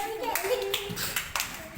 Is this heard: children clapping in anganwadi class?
yes